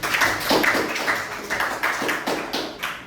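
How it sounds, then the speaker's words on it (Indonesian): Group clapping for a student team at an Indonesian university session, with distinct, fairly rhythmic claps from a modest number of people, close and lively, surging in uneven bursts across a few seconds. "Silakan tepuk tangan kepada kelompok Ar-Rahim."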